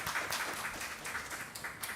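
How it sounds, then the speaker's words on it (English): Faint, distant clapping from a small group, a soft steady patter of hands with a few sharper claps, fairly quiet throughout. "I would say a round of applause for that"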